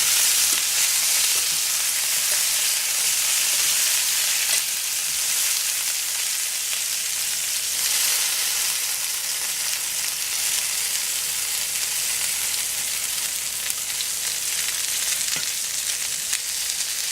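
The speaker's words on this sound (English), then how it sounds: "you add potatoes immediately into the hot oil butter mixture and cover it with the lid" Potatoes pan-frying in a hot oil and butter mixture, giving a loud, continuous close sizzle with a dense crackling hiss that holds steady throughout.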